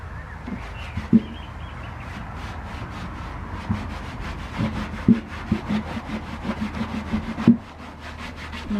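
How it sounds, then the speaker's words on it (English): A cloth rubs over a vintage Esso or Shell two-gallon metal petrol tin with WD-40, giving soft, repeated scrubbing strokes close up with a few light knocks and no talk. "huge benefit from just a quick wipe with some WD-40 or GT85"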